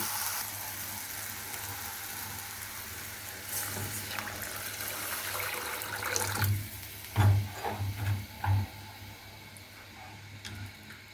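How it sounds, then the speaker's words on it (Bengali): Water is poured into a pot of frying spiced chicken, the steady sizzle giving way to splashing gurgles and a few knocks from the pot near the end. "এখন কিছুটা পানি দিয়ে দিব।"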